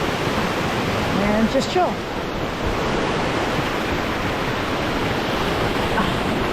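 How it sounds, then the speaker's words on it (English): Crystal Creek Falls roars up close as a dense, steady wash of falling water that fills the whole stretch, loud and near, with a brief voice speaking over it early on. "We're gonna try to get as close to this waterfall as possible"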